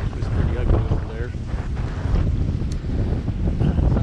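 Gusting wind buffets a sailboat in stormy open water with rough waves, a loud, steady roar of wind rushing across the microphone with surging strength.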